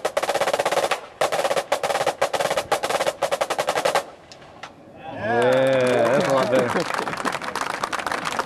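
An audience claps after a drum performance at a tom float clinic, dense applause filling the first four seconds, then a brief lull with a few scattered claps before a voice starts talking.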